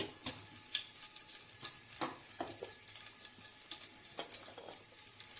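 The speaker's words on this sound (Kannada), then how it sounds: "ಸ್ವಲ್ಪ ಸ್ವಲ್ಪ ಜೀರಿಗೆ ಹಾಕಾಕತ್ತೇನೆ ನೋಡ್ರಿ" Cumin seeds crackle and sizzle in hot oil in a pan for a gobhi matar sabji, a steady frying hiss dotted with irregular sharp pops, close and moderately loud, with no voices.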